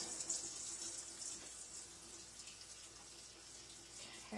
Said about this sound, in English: you're going to need 1/2 cup of hot water that we're going to put in here as well.